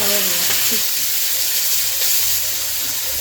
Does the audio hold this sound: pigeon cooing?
no